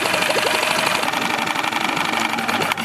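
A small Honda outboard motor runs steadily at close range, a rattling mechanical drone with rapid rhythmic knocking and no talk.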